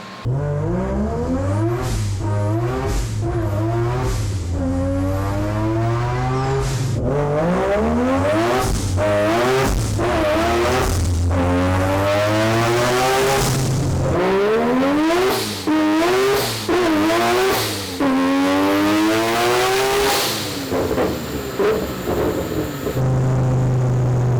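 Three-rotor Mazda RX-7 screaming on a dyno under boost, loud and close, with repeated sharp revving pulls and gear-like pitch sweeps climbing high, continuous and alone without talk.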